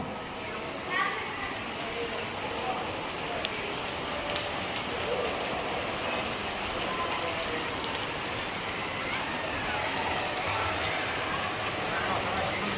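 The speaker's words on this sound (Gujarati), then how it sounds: "મસ્ત વરસાદ આવે છે" Steady rain pours down outdoors in a continuous dense hiss, with children's voices and playful calls faintly mixed in underneath.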